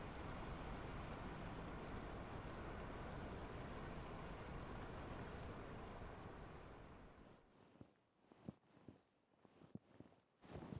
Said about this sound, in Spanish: Por más que haya lluvia, vamos a hacer la prueba.